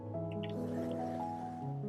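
Thick chocolate cake batter with chopped milk chocolate is poured into a pastry ring, a soft, close, wet flowing and dripping sound that runs steadily and quietly without talk.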